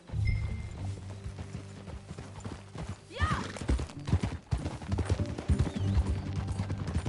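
Horse hooves clip-clopping at an easy riding pace in Red Dead Redemption 2, a rhythmic run of close hoofbeats with tack rattling, a brief whinny midway, and a single short spoken word.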